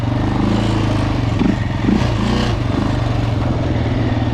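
A quad bike engine held at steady high revs during a wheelie, with a loud, close, continuous drone and slight wavering as the throttle is held open; no talking.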